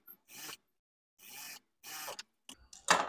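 A sewing machine stitches two pieces of cloth together in short bursts of rapid mechanical whirring, separated by silent pauses, close to the microphone and with no talking.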